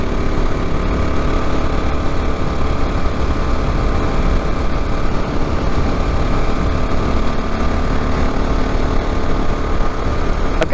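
Honda XR650L motorcycle engine while riding on pavement, a loud constant single-cylinder rumble mixed with wind buffeting, steady throughout without speech.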